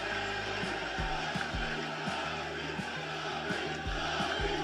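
A large arena crowd at the UFC 309 press conference chants for Tommy, a loud rhythmic two-beat chant repeating steadily throughout under a dense roar of voices.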